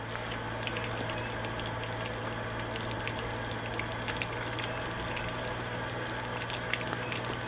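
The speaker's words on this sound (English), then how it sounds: "the outside shower, and we're going to turn that on" Cold water runs steadily from an RV's outside shower on an Aliner camper being prepared for the camping season, a constant close hiss of flow with no talk.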